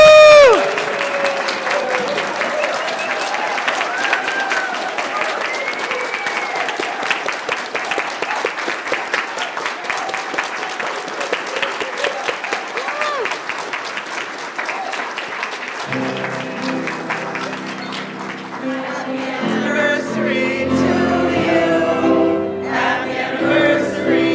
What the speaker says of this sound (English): I now invite all gathered here to share our appreciation for Kelly's 20 years here with a round of applause